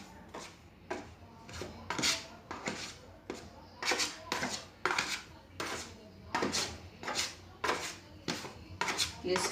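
Dry ingredients for homemade bread dough, including sugar, being mixed in a bowl, heard as a steady series of rhythmic scraping and clinking strokes of a utensil against the bowl, close and moderately quiet.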